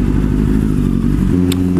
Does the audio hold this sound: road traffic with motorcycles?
yes